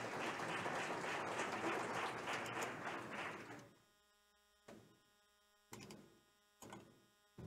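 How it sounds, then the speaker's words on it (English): Audience applause for a keynote speaker at the LACNOG networking conference fades out after a few seconds, leaving a quiet, humming hall broken by a few isolated knocks and shuffles. "A big round of applause for him."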